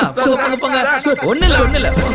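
A mobile phone rings in short repeating electronic tones while people talk over it, the ring fairly loud and close.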